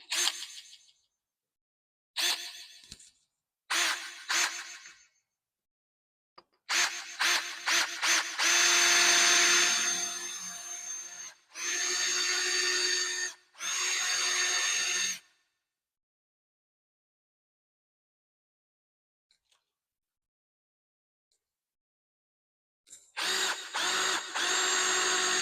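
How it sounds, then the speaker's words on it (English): A power drill whirs in short bursts, then runs in longer high-pitched stretches as it bites into the side of a rubber tire, with silent pauses between runs. "I need to drill a hole in this side of the tire to hold"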